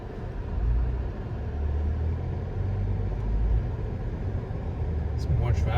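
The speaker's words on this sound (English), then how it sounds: "It's more traffic going north than going south." Road traffic on the Las Vegas Strip, heard from inside a moving car: a steady low engine and tire rumble throughout, with people talking over it.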